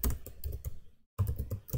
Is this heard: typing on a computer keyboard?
yes